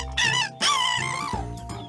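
A voice imitates a rooster's crow, a loud drawn-out call that rises and trails off, heard alone and close.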